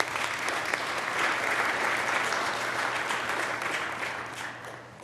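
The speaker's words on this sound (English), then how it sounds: "please join me in another round of applause for them because they do so much" Sustained applause from an audience at a city's State of the City address, a dense, steady wash of clapping that holds for the whole stretch and eases slightly at the end, with no talk over it.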